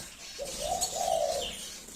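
Zebra finch calls, two short tonal chirps in quick succession over a faint background hiss, fairly close.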